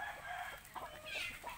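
Free-range garden chickens clucking and a rooster crowing at a moderate distance, with a steady background hum and no talk over them.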